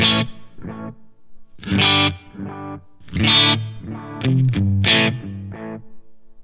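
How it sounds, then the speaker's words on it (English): Guitar run through the tube echo delay of a Line 6 DL4 pedal: separate plucked phrases, each followed by softer trailing repeats, clean and close with a slightly driven tone. "So this is the tube echo"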